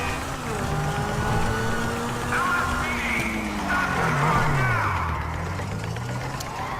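Car driving and skidding in the video game GTA Online, with a steady engine drone whose pitch rises and dips and thin tire squeals over it, continuous and fairly loud throughout.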